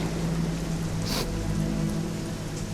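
Steady rain falling, a continuous close wash of patter with a low hum underneath and no voices.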